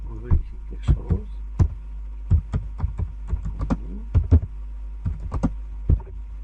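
Keys on a computer keyboard tap in an irregular run of sharp, close clicks, some in quick pairs and some spaced apart, with someone speaking French quietly in the gaps.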